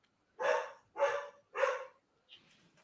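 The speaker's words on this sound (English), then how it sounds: "Dog is barking as well" Dog barking three times at an even pace, loud and fairly close, followed by a faint short yip, with no talking.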